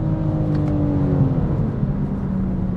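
BMW M4 Competition pulling hard from second gear on a straight road, a steady engine drone with rising harmonics heard from inside the cabin, continuous and fairly loud throughout.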